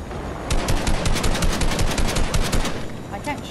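Rapid automatic gunfire in a video game, loud and close, with dense bursts of shots that continue for about three seconds before trailing off.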